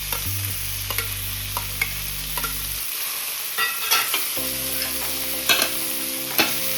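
Ginger garlic paste fries with chicken liver in a pan, giving a steady sizzle broken by occasional scrapes and clinks of stirring, alone without talk.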